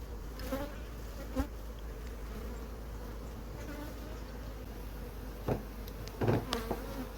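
Honeybees buzz in a continuous low drone close by as they are knocked into a basket at a hive, with a few soft knocks and bumps breaking through now and then.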